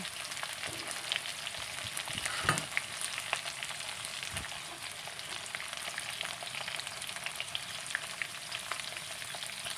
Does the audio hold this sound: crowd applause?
no